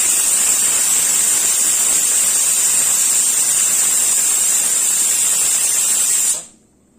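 A pressure cooker vents steam after cooking moth beans, giving a loud, continuous, high-pitched hiss that holds steady and then cuts off abruptly near the end.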